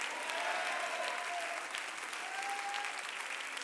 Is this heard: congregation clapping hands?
yes